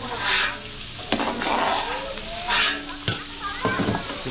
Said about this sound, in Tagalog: So pinrito natin sa may butter.